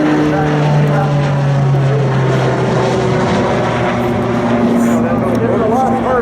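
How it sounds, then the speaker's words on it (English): Beechcraft Starship canard airplane passes at the Oshkosh EAA airshow, flaps extended for takeoff and landing, a loud continuous propeller engine drone with steady tonal hum and slowly shifting pitch, while a voice talks over it. "there's a starship with a canard swept forward and the flaps out in the takeoff and landing configuration"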